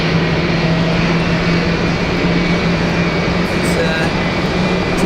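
A departing aircraft at Manchester Airport, heard as a loud, continuous broadband engine roar with a steady low hum, filling the whole stretch close by with little change.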